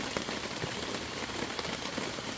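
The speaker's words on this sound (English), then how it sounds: "Sorry for the audio, it's raining, we got a tarp above us." Rain falling on a tarp stretched overhead outdoors, a dense, steady patter of drops drumming close and loud on the plastic, with no talk.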